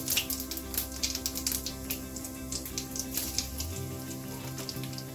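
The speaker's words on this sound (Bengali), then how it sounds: "কড়াইতে ফোড়নে দেব হচ্ছে গোটা জিরে আর শুকনো লঙ্কা" Whole cumin and dried chillies tempering in hot oil in a kadai, a steady crackle of small sharp pops and spits that quiets slightly near the end, close and fairly soft, with no talking.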